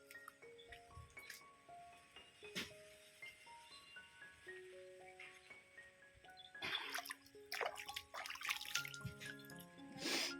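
A quiet village stream trickles and drips over stones, with faint, scattered watery plinks and clinks that build a little busier toward the end.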